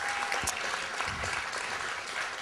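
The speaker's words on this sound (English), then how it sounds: "So let's please give her another round of applause." Steady audience applause at an El Monte awards recognition event for honoree Pat Wallach, a dense, continuous patter of many hands filling the room at even loudness throughout.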